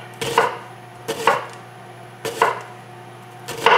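A knife chops an onion into half-moon slices on a cutting board: four crisp, evenly spaced cuts, close and clear, with quiet pauses between them.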